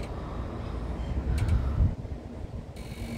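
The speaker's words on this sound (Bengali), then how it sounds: "কিন্তু বাতাস হচ্ছে" Wind blowing outdoors in Sydney on a mild day, a steady broadband rush with gusts swelling toward the middle, then easing and rising again, with no voices.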